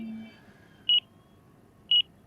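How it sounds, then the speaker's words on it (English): An ESC low-battery alarm on an Avian 60 amp speed controller in an E-Flite Extra 300 model plane gives two short, clear, high beeps about a second apart over quiet background. "So here I have ESC alarm from an Avian 60 amp ESC inside"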